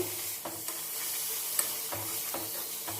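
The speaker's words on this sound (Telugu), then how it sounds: "మనం పచ్చి కొబ్బరి తీసుకున్నాం కాబట్టి కొంచెం యాగనిద్దాము" Fresh coconut and drumsticks frying in a pan, a steady soft sizzle with a few light stirring scrapes and taps spread through, close and even, with no voices.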